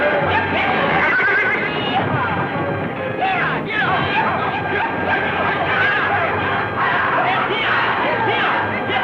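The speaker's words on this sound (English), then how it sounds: "Them horses may start sounding off again" Horses whinny and neigh repeatedly around a barn amid a busy, noisy scene with hoofbeats and voices mixed in throughout.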